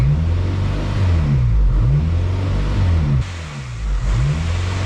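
Car engine at a raised idle during a check of the idle air control valve, with a suspected exhaust leak, revving up and down in a loud, close, steady rumble.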